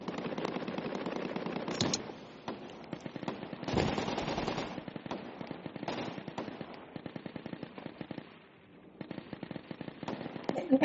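Rapid automatic gunfire and scattered shots in a desert shooter video game battle, loud and dense with short pauses, and bursts repeating throughout the clip.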